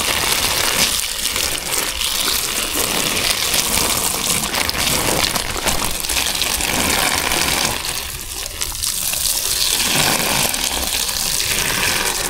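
A strong, continuous gush of water runs loud and close while durian Puyat, EVIARC sweet jackfruit and Tacunan dwarf coconut trees are watered, a steady rushing flow with no talk.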